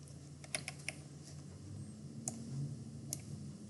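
Quiet computer clicks from a mouse or keyboard during website setup, a handful of light, sharp taps scattered over a soft steady room hum, with no talk.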